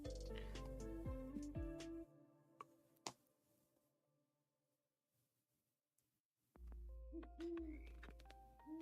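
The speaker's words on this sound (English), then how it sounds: "There it is. There's the owl song." An owl-themed song plays with tonal musical notes and hoot-like calls, loud at first, fading to near silence, then returning strongly, with a sharp click in the middle.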